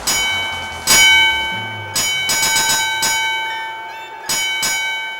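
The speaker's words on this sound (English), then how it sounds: "But most important of all, he got to ring the bell." A fire engine bell rings out loud and near in a series of bright, clanging strikes, some single and some in quick clusters, each one ringing on with a metallic tail.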